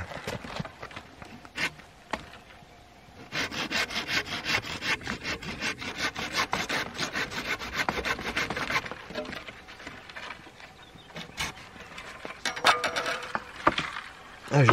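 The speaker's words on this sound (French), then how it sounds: "Moi je vous conseille l'achat de cette petite scie là." A small toothed hand saw rasps back and forth through wood for a garden tool handle in quick, steady strokes, close up, after a few brief knocks.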